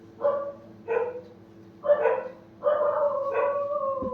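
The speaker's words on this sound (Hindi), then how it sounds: "कुत्तों की आवाज भी आ रही हो तो उससे आप लोग विचलित नहीं होंगे।" Dogs bark in a series of five clear, separate bursts at moderate distance, the later barks stretching into a longer yelping call, with no talking over them.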